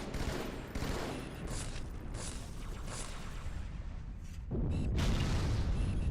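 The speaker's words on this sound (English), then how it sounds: "Oh, was that ever a great grenade?" A grenade blast in the video game Arc Raiders, heard as a dense, roaring burst of explosive noise that rumbles on, with a second heavier surge near the end.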